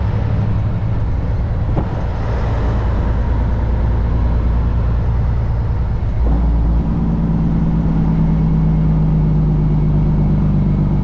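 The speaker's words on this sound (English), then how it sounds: "We're gonna rev it up around 1400 RPM." A Kenworth W900 truck's diesel engine with an 18-speed Eaton Fuller transmission drones loudly and steadily up close, with a shift in engine pitch partway through as it revs around 1400 RPM.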